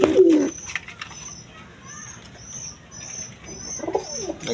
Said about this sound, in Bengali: এখানে এক পেয়ার বোম্বাই কবুতর আছে